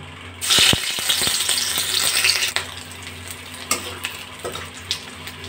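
Whole black cumin, a dried chilli, a bay leaf and ginger frying in hot oil in a wok, a steady close sizzle with scraping stirs and a few sharp clinks of a spoon against the pan.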